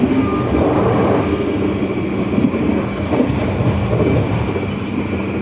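Riding aboard the Manahan executive passenger train out of Jogja, a steady rumbling roar fills the car, with rhythmic wheel-on-rail clatter beneath it and no voices.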